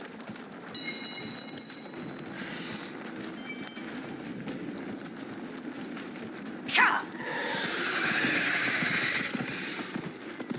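Horse in Dragon Age Inquisition: hooves clopping steadily under a game soundscape, a short whinny, then louder galloping or rushing movement toward the end.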